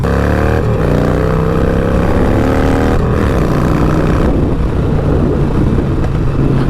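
Loud, close engine of a Harley-Davidson Sportster motorcycle, with shifting tones as it revs and rides, steady throughout with no talking.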